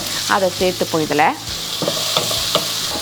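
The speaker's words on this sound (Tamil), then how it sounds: "வெங்காயம் வதங்கட்டும், நல்லா வதங்கிட்டே இருக்கட்டும்" Chopped onions and green chillies sizzling steadily in a hot pan while lemon rice is prepared in a home kitchen, a continuous close frying hiss with someone speaking over it.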